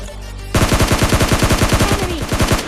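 Rapid automatic gunfire in the PUBG Lite battle royale game, a long burst of about twenty loud, closely spaced shots fired in steady rhythm.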